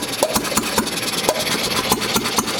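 A small see-through engine runs steadily, close and loud, with a rhythmic stream of sharp exhaust pops and knocks over its continuous mechanical clatter.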